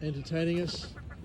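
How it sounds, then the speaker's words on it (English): Ducks on a Sydney summer morning give a few loud, nasal honking quacks in quick succession, close by, with no talk. "where we have these wonderful ducks here entertaining us"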